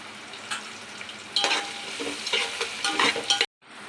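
Green chillies and chopped onion stir fried in a pan for khichdi, a continuous sizzle broken by scraping spatula strokes and scattered clatter, close and moderately loud before cutting off abruptly near the end.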